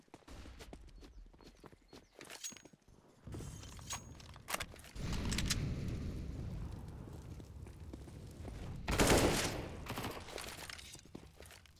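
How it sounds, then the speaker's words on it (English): Grenade blast and bursts of gunfire during a professional Counter-Strike esports match, with sharp cracks early on, a sustained loud rumble through the middle and a strong explosive burst near the end. "Nade down towards the tree. Good damage."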